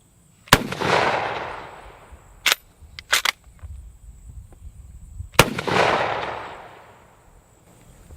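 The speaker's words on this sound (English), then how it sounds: "it's the first time shooting a straight pull" Two loud, sharp gunshots from a straight-pull carbine rifle ring out a few seconds apart, each with a rolling echo that fades, with softer clicks and clacks of the action cycling in between.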